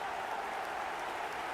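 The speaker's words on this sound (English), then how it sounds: "Even some of the opposing fans are clapping that." Steady crowd applause fills a stadium in the eFootball video game, a dense wash of clapping at an even level throughout, with no voices on top.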